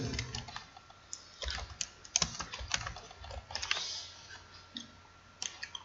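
Typing on a computer keyboard, a quiet run of irregular key clicks in short bursts with brief pauses, close and alone without talk.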